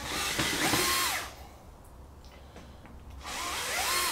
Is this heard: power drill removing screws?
yes